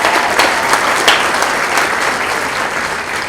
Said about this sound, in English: so let's give them a round of applause prior to starting.